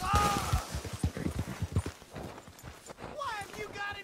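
Horse hooves clip-clop at a steady galloping rhythm in Red Dead Redemption 2, moderately close, with a shouted voice breaking in near the end.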